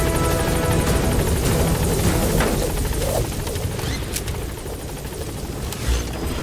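A helicopter in the video game Metal Gear Solid V: The Phantom Pain roars loudly and continuously as it departs a hot zone, its dense rotor and engine noise filling the scene and easing slightly as it lifts away.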